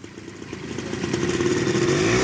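A motorcycle pulling away during a riding lesson, its engine note rising steadily from a low idle as it gains speed over about two seconds, close by with no talk.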